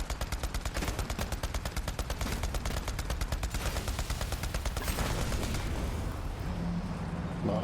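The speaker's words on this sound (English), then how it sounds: "we'll do a bit of shooting here" Rapid automatic gunfire from a video game, Borderlands 3, playing as Moze: a fast, sustained burst of evenly spaced shots that runs for several seconds, then gives way to a quieter tail with a faint steady tone.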